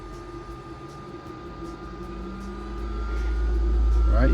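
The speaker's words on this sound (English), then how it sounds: "I'm going to go ahead and turn on my inline." Inline exhaust fan for a Glowforge laser cutter spinning up, a steady broadband whoosh with a low hum that grows louder over a few seconds, with faint talk in the room.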